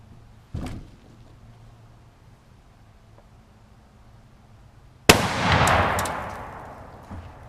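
A Savage Arms .30-06 rifle fires at a half cinder block outdoors in a backyard: a sharp distant-sounding pop early, then a loud close blast with a long rumbling decay; no talk.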